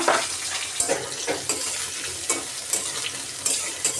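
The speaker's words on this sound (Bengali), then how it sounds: "আমি কড়াইতে তেল দিয়ে দিলাম আমি পেঁয়াজটা আগে ভেজে নেব পেঁয়াজটা দিয়ে দিলাম" Onions frying in hot oil in a wok, a steady close crackling sizzle throughout with rhythmic scraping stirs recurring about every half second.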